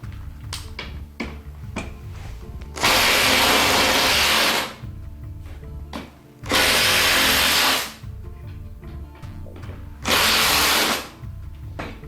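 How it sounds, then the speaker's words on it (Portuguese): A power drill loosening screws in a wooden workpiece whirs loudly in three separate bursts of about two seconds each, with quieter tapping and handling noises in between. "Eu vou soltar esses dois furos, esses dois parafusos um pouco"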